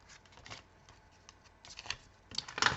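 Sheets of paper rustle and crinkle as they are folded and handled to make an envelope, in soft, intermittent bursts that grow louder and busier toward the end, with no talking.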